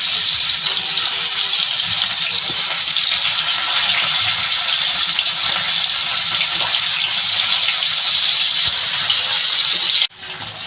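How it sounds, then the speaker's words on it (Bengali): Pieces of pona fish sizzle and crackle steadily in hot oil, a loud, dense, continuous frying hiss that cuts off abruptly near the end, with no voices. "তেলটা আমার গরম হয়ে গেছে আমি মাছটা একটা একটা করে দিয়ে দেবো"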